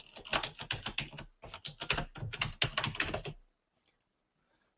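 A password is typed on a computer keyboard in quick, close bursts of key clicks with a short pause, then silence.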